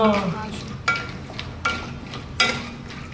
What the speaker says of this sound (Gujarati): હવે તેલમાં થોડી વાર તળી લેવાના શેકી લેવાના